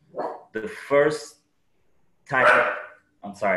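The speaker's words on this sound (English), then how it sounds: "that's my dog." A dog barks a few sharp times indoors, close by, breaking in between bursts of a man's speech.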